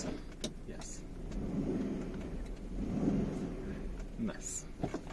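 Wind and road roar rush in through an open car window while driving, a loud steady whoosh that swells and fades, with brief rattles and a voice speaking over it.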